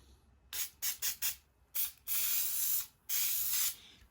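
Adhesive spray is aimed around the edges of a handmade tufted rug, first four short hissing bursts, then a single burst and two longer sustained sprays, all close and loud.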